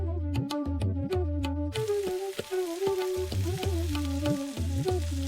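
Panch phoron spices hit hot mustard oil in a karai with a sudden burst of crackling sizzle that holds steady, while background music plays throughout and loud clatter stands out early on.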